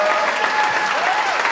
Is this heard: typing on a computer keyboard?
no